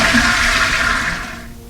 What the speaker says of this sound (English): we can flush the toilet.